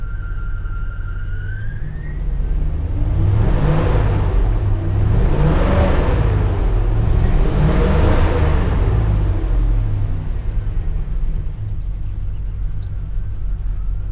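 A Ford F-150 pickup with a bad coolant temperature sensor runs close by, its low idle rumble steady throughout and swelling in a few broad rising and falling surges, with no voices.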